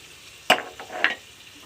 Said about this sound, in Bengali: এবার আমি নারকেলের দুধ আর টক দইটা দিয়ে দেবো।